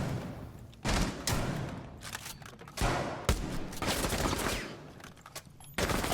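Gunfire in the tactical shooter Rainbow Six Siege: several loud, close automatic bursts and sharp single shots come in clusters, separated by quieter stretches of background game noise.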